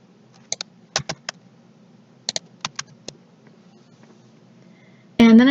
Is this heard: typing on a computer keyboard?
yes